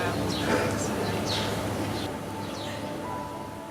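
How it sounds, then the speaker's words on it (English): Birds chirp and sing outdoors in Ibiza, with several short, moderately near calls rising over a steady soft ambient hum. "the sounds around us. Sounds of birds."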